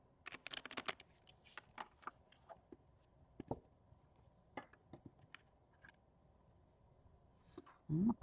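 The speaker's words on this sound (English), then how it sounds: "Shuffle them up real good." Tarot deck being shuffled by hand: soft, close card riffles and scattered light slaps and clicks, quiet and irregular, ending in a brief louder rustle.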